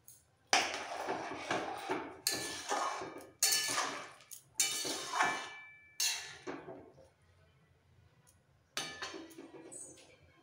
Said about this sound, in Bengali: ঝোলটা ভালোভাবে ফুটে গেছে, এবার ভেজে রাখা ফুলকপিগুলো দিয়ে দিচ্ছি